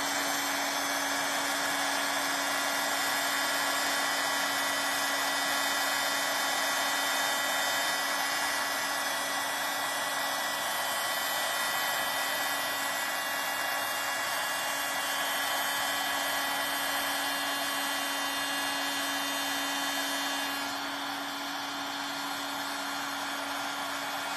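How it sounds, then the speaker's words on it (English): A heat gun blows continuously, heat embossing a fall card. The steady, loud whirring hum holds its pitch throughout and eases slightly near the end. "I am going to be using my heat gun, and I can't turn the volume off. So just watch as this heat embosses."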